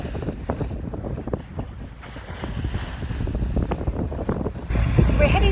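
A sailboat heading out of the port of Valletta, Malta, in a beam wind: steady wind buffeting the microphone over water and hull noise, growing louder toward the end, with voices heard at times.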